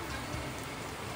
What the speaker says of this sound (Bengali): বলো এই বৃষ্টিতে কি করি